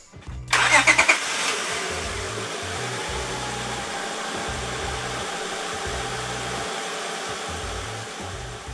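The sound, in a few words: Honda Accord 2003-2007 engine starting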